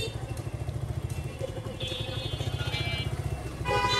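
A modified Suzuki Gixxer SF motorcycle rides along, its engine a steady low pulsing throb with a rising whine near the end, loud and close throughout.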